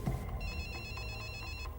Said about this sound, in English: He heard her phone ringing in her jacket pocket.